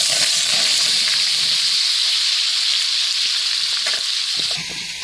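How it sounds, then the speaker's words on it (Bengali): Lightly parboiled potatoes frying in oil give a steady, loud sizzle and hiss that carries on without a break, with a slight change in texture near the end and no talking. "এখন কিন্তু তেলের মধ্যে দিয়ে দেবো।"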